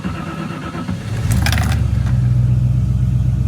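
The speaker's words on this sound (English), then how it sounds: "we're ready for the cold start" A TVR Chimaera's engine cold-starts in neutral: a brief cranking clatter, then it catches and settles into a loud, rumbling, steady idle close by.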